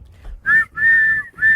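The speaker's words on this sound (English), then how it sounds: "Blow the whistle." Three shrill sustained blasts on a whistle, loud and close, with short gaps between them and no talk.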